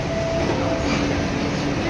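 A train rumbles at a railway station platform on a journey toward Chennai Egmore, a steady close mechanical drone with faint tonal whines over it and a murmur of voices in the background.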